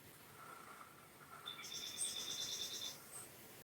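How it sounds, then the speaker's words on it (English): A small songbird sings a short, faint series of thin, high whistled notes and trills against a quiet background hiss. "that's the sound of Bewick's Wren"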